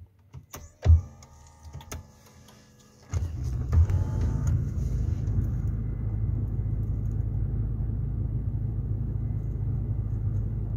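A Toyota Land Cruiser engine cranks and catches after a few clicks and chimes, then settles into a steady, close, low idle rumble that holds to the end.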